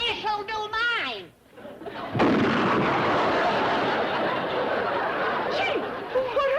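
A cannon fires in an old TV sitcom scene set at a castle, a sudden loud blast at about two seconds that rolls into a long, noisy rumble. Voices talk just before it.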